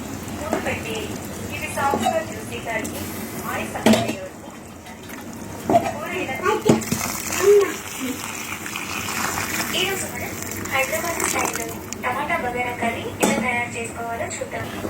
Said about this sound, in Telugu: ఇప్పుడు బాగా మరుగుతున్న వాటర్ ఈ బియ్యంలో వేసేయాలి